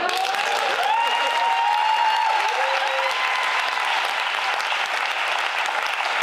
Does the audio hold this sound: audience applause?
yes